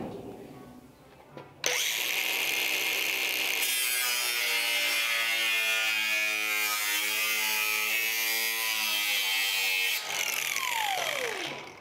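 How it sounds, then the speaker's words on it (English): A cutoff grinder trims the steel edge of a Ford Model A door being re-skinned, whining loudly and steadily for about eight seconds after spinning up, then winding down. "I just kind of whittled it away there in the center crudely just with the cutoff grinder"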